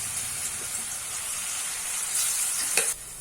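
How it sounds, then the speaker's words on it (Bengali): Steady oil sizzle of banana flower frying in a pan, with a brief stirring scrape near the end; no voices. "মোচাটাকেও একটু যোগ করে দিয়ে একটু ভাজা ভাজা করে নেবো"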